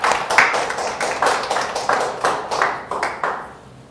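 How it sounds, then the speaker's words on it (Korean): A church congregation claps in unison during a Sunday worship service, a steady run of sharp, rhythmic hand claps that swells and then fades out near the end, with no talking over it. "하나님께 영광의 박수를."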